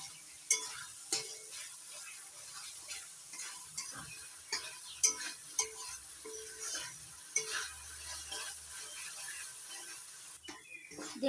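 A spice paste of ground cumin, coriander, green chilli and black pepper sizzles in oil while a spoon scrapes and stirs it around the pan in steady, uneven strokes, close and moderately loud.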